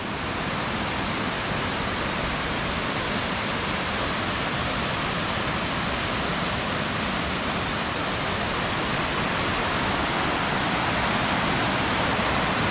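A waterfall in the forest at Maroondah Reservoir Park near Melbourne, Australia, roars as a steady, dense rush of falling water that stays loud and unchanging throughout, with no voices over it.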